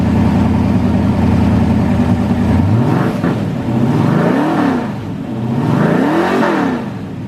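A 1988 IROC race car engine with straight pipes exiting the side idles loudly and close, then climbs into several sharp revs that rise and fall, with no talking.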